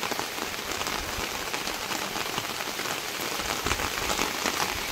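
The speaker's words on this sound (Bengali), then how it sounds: "খুব জোরে বৃষ্টি হচ্ছে।" Heavy rain pours down hard and without a break, a dense, loud hiss of drops hitting surfaces nearby, with no voices.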